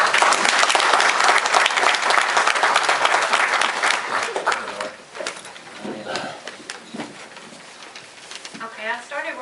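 Audience applause at a city council meeting, loud dense clapping from a room full of people that thins out and fades into scattered claps and murmuring voices.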